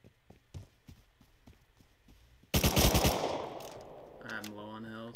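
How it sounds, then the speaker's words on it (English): Automated turret in the video game Rust opens fire in a sudden loud burst of rapid shots, preceded by faint scattered footsteps and followed by a fading tonal sound. "Fucking turret."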